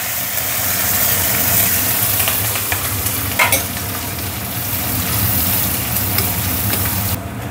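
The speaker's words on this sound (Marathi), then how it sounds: "छान राई आणि जिरं तडतडलं आहे. आता आपण लसूण टाकूया आणि सोबतच कढीपत्ता आणि" Garlic, curry leaves and onion hiss in hot oil with crackled mustard and cumin seeds, a loud, continuous close-up sizzle with occasional stirring clinks and scrapes, with no talk.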